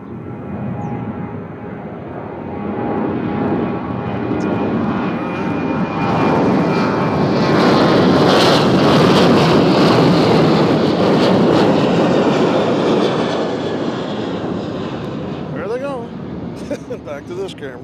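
A jet airliner flies past at Nashville International Airport, its engine roar building from a distant rumble to a loud, full peak midway, then easing off, with someone talking over it and at the close.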